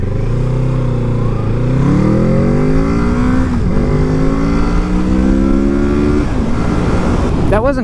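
A 2021 Kawasaki Z650 motorcycle accelerates hard, its engine note climbing steeply through the gears in rising sweeps with brief dips at each shift, loud and close throughout.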